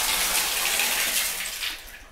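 A bathtub faucet in an Evanston apartment bathroom runs at full pressure, a loud, steady gushing rush of water that fades slightly toward the end, with no voices.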